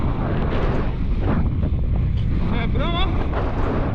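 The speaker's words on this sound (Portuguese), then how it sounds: "Muito vento." Strong wind roars and buffets the microphone as someone moves along a muddy street in a city, with broadband rumble throughout and talk heard over it.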